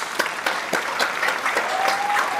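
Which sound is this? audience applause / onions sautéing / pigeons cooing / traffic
audience applause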